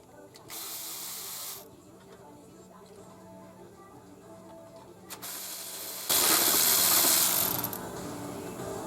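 Ratchet wrench on a flexible extension clicking as it turns the 8 mm valve cover bolts on a 2005 Ford Explorer Sport Trac 4.0L, rapid close pawl clicks in two bursts with a louder, harsher stretch near the end.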